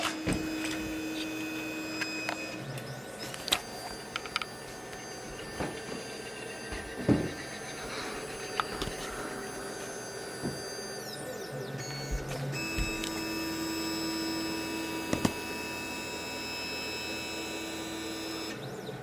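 A MakerGear M2 3D printer runs its auto-leveling routine. Steady stepper-motor whine and hum run throughout, broken by repeated short clicks and taps as the nozzle probes the bed. No one speaks.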